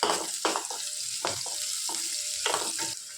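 Sliced onions with turmeric fry in oil, a continuous sizzle broken by repeated scraping stirs at an irregular pace, close and without speech.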